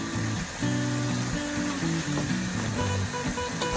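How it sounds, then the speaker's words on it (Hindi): Phulkiyan fry in hot oil until golden, giving a dense, continuous sizzle and bubbling close up, with no voices over it. "अच्छा सा गोल्डन कलर आने तक हमें इन्हें दोनों तरफ से फ्राई कर लेंगे।"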